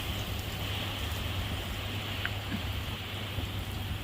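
Steady rain drumming on the roof of a Thai rice-and-curry food stall, a dense continuous patter with a low hum underneath and no voices.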